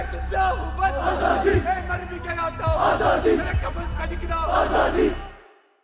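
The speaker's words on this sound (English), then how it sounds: "the slow chant of Azadi keeps getting louder" A large crowd chants "Azadi" in unison, a rhythmic repeated call rising in waves, loud and continuous before fading out at the end.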